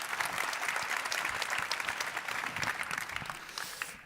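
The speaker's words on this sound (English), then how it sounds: "we're going to get a warm applause for our panelists before we start off today's discussion." Audience at a DevWorld 2024 tech conference applauds panelists before an AI discussion, a dense, even wash of many hands clapping at moderate distance, fading slightly at the end.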